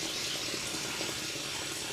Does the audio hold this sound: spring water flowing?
yes